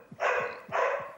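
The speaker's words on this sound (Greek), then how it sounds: "Διαμαρτύρεται το σκυλάκι." A small dog barks twice in quick succession, close by and fairly loud, with short gaps between the barks.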